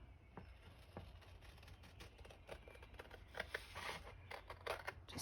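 Scissors snipping paper for a junk journal page, a run of short crisp cuts that quicken and grow louder toward the end, close and alone with no talk.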